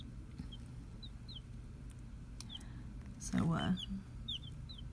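Young chicks in a brooder lined with shavings, with short high peeps scattered throughout and a steady low hum beneath, plus a brief louder burst of clucking near the middle; a single spoken word is heard.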